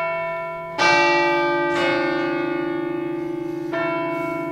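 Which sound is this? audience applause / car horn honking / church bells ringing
church bells ringing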